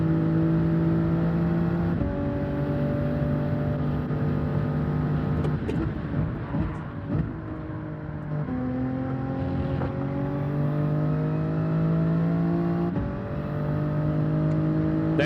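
A Toyota Supra's engine pulls hard in Gran Turismo 7 at Mount Panorama, a loud steady engine tone rising in pitch through several gear changes, with a brief rougher patch midway before climbing again.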